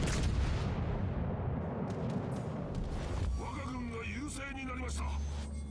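The cruiser Azuma's main guns firing in World of Warships Legends, a deep heavy rumble of artillery that rolls on continuously, with someone talking over the second half.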